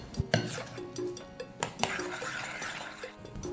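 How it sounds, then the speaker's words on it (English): Prawn fritter batter with all-purpose flour is stirred in a bowl, with irregular knocks and scrapes of a utensil against the bowl, close and moderately loud, and a faint voice in places. "Mix everything together and set aside for about 15 minutes."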